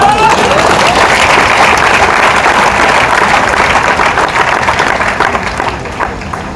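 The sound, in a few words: audience clapping at seminar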